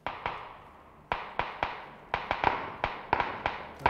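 Gunfire in the video game PUBG, a rapid irregular series of sharp cracks, some single and some in quick pairs, each with a short echoing tail, fairly distant and without talk.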